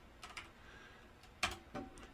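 Short, scattered bursts of keystrokes on a computer keyboard, a few quick clicks close by with gaps between them, alone with no talk.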